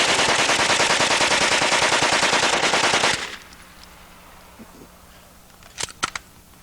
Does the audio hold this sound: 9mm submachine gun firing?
yes